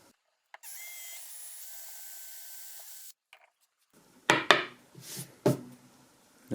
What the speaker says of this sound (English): So I'll start by drilling the holes on this side here.